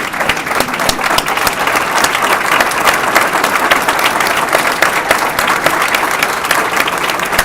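An audience at a reception applauds loudly and steadily, dense continuous clapping close by with no voices standing out.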